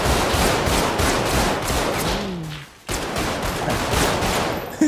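Rapid automatic gunfire in a GTA 5 roleplay shootout, loud and continuous bursts that briefly drop out before resuming just as dense, with a short descending whine in the middle.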